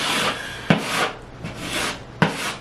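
Light coat of putty spread over nail pops on a wall with a putty knife, heard as a few close, rasping scrape strokes with sharp clicks where the blade meets the surface.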